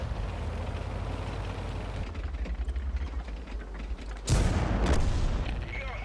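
Artillery fire in the World of Tanks video game, a loud deep boom landing around four seconds in over continuous rumbling battle noise and low engine drone, with further blasts trailing after.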